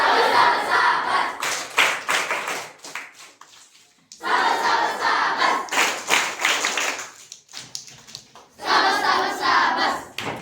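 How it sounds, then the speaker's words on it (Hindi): Classroom students clapping their hands together in three bursts of mixed, overlapping claps, each lasting a few seconds and separated by brief pauses, fairly loud and close. "शाबाश ताली प्रारंभ"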